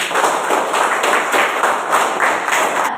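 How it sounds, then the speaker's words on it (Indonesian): Students in a classroom clap together in a steady, loud rhythmic unison beat, repeated evenly for about three seconds with no talk over it. "kita tepuk tangan sekali lagi"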